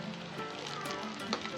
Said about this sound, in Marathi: तर आपण गॅसवर आता तेल गरम करायला ठेवलेलं आहे. त्यामध्ये आता आपण दालबट्टी तळून घेऊ.